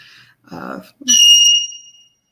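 A short vocal murmur, then a loud, pure whistle from a bird holding one bright tone for about half a second.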